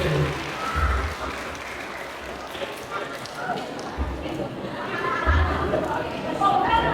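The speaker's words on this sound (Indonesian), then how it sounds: "Sekali lagi tepuk tangan buat anak-anak mewakili itu" Applause breaks out from an audience at an Islamic boarding school talk show, clapping in a few bursts amid crowd chatter, with a voice speaking over parts of it.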